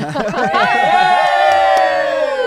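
A large crowd at a radio station's holiday beer event cheers and whoops loudly, voices shouting together in a sustained roar that slowly tapers off.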